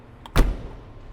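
A 2024 Airstream Caravel 20FB travel trailer door shuts once with a solid, heavy thud close by, preceded by a faint click of the latch, then a short fading ring-out with no voices.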